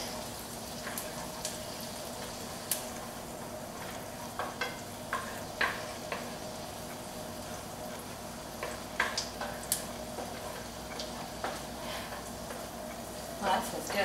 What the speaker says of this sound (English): I'm going to add 1 minced clove of garlic. Let that cook for a little bit.